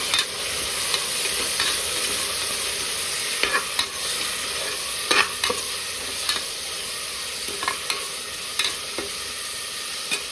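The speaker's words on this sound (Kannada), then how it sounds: "ಇದು ಸ್ವಲ್ಪ ಹಸಿ ವಾಸನೆ ಹೋಗೋ ತನಕ ಚೆನ್ನಾಗಿ ಫ್ರೈ ಮಾಡ್ಕೊಳ್ಳೋಣ" Chopped onion and tomato frying in a pan, with a steady soft sizzle and periodic scraping clicks of a spoon stirring the mixture.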